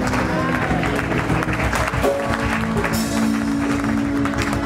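A church congregation applauds and cheers loudly and without pause throughout, a dense wash of clapping and voices filling the room.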